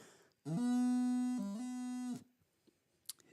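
A bagpipe chanter sounds a sustained low note, broken for an instant by a quick grace-note strike, then resumes briefly before cutting off.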